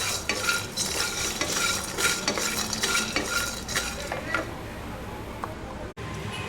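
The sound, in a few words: coconut pieces frying and stirred in a pan on low flame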